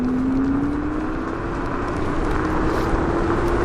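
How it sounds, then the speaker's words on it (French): Knobby tyres of a Halo Knight T107 Pro electric scooter roll over asphalt with a steady, loud roar, while a thin motor whine climbs slowly in pitch throughout. "Les pneus à crampons sur le bitume, ça fait du bruit, hein. Ça fait beaucoup de bruit."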